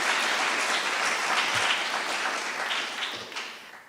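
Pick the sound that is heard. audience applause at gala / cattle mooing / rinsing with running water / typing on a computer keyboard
audience applause at gala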